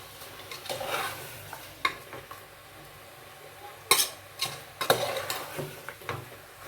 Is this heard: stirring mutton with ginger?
yes